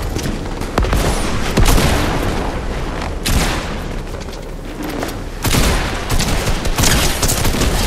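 Fortnite gunfire crackles in dense, loud bursts of rapid shots and booms, with heavy barrages that rise and fall across the stretch, no clear talk over it.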